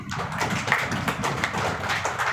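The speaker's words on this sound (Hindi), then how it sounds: "जोरदार ताली बजाइए।" A crowd at a business plan presentation claps loudly and steadily, a thick continuous patter of many hands with no talk over it.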